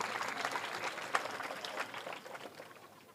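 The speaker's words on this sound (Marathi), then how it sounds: "ऋषी महाराजसाठी जोरदार टाळ्या वाजवा सगळ्यांनी" Audience applause at a Shiv Mahapuran katha, a Hindu religious discourse in a village: a steady, faint, distant wash of many hands clapping with a few sharper claps, and no speech over it.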